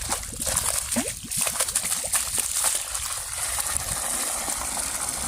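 Water from a 5 hp Shakti solar pump gushes and splashes continuously, a steady rushing spray with some sloshing, close and fairly loud throughout.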